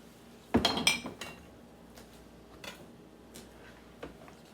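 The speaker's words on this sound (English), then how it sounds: "Put the onions in." Onions dropping into a pan with olive oil, a brief clattering rustle and metallic clink followed by a few scattered light knocks, close and fairly loud.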